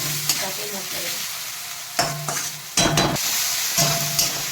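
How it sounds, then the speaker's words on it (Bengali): Tomatoes and onions fry in a pan for a Bengali fish curry, a steady bright sizzle broken by several loud scraping stirs of a spatula against the metal. "এই টমেটো পেঁয়াজগুলো ফ্রাই হয়ে গেছে"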